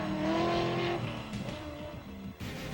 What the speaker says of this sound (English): Some of the trucks now passing through Ojos Negros.